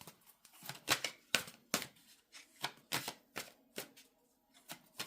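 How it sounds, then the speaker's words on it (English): Oracle cards being shuffled by hand, a rapid series of crisp riffling and flicking bursts in uneven rhythm, close and fairly quiet, with no talking. "let's pull some oracle cards"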